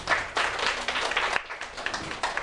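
Audience applause at a school debate on calculators in the classroom: a moderate crowd clapping in uneven bursts that rise and dip over a few seconds, somewhat thin and distant, with no talk.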